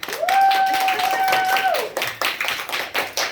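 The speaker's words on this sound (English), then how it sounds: "Let's give her a clap." An audience at a school virtue award ceremony claps for a student winner; a few scattered, close claps come through the room under a speaking voice and a sustained electronic tone.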